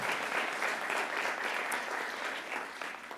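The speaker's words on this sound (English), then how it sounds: "can we get a round of applause for our donors for" A celebration crowd applauds its donors with sustained, fairly quiet, even clapping from many hands across a room, and no voices stand out.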